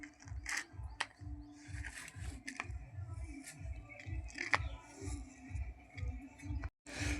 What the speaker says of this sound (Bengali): কুমড়োর বীজগুলো জিরে আর কাঁচা লঙ্কা লবণ দিয়ে বেটে আনবো।